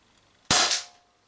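A single sharp, loud crack from an Umarex TP50 CO2 pistol firing an 8 gram steel ball, with a short ringing decay afterward and no other sounds.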